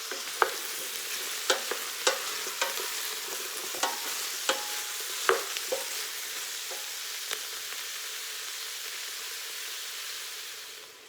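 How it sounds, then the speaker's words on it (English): Zucchini sautés in a pan with a soft, steady sizzle. Sharp clicks and scrapes of a utensil stirring the pieces recur every second or so, close by, with no voices. "next I'm going to put the zucchini in and saute that for about 5 minutes."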